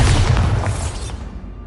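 Bombarda spell blast in Hogwarts Legacy, a loud booming explosion with a deep low rumble that starts at full strength and slowly decays over nearly two seconds, with no talk over it.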